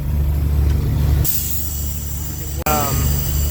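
A truck trailer's air system hisses as it refills with air, a broad hiss starting partway through over an idling diesel rumble, with a second short burst of air near the end.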